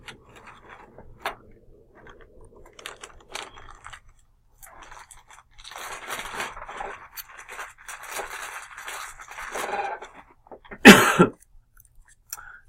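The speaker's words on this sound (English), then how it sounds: "Excuse my cough." Faint clicks and rustling lead into a long stretch of muffled, breathy throat noise, then a single sharp, loud cough near the end, close to the listener, during a geography lecture.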